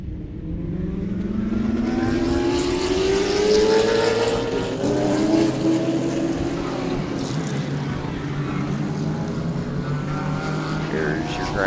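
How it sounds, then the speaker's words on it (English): GT race cars on the track at Sebring, a pack roaring past one after another; loud, overlapping engine snarls swell and fade with a rising pitch as the field goes by, and there is no talk. "We are getting ready to have the last race of the day, which is the GT cars."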